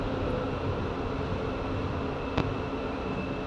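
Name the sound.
electric train running in Kuala Lumpur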